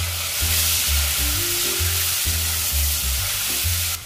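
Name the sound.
sausage meat and chopped vegetables frying in a pan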